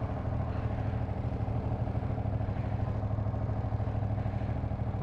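A Ducati Panigale V2 sport motorcycle's V-twin engine rumbles steadily and close by, a deep, loud, continuous throb with no talking.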